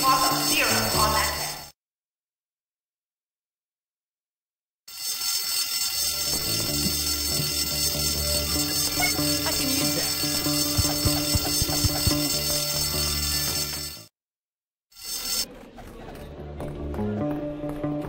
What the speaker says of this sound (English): We have to follow the fire alarm.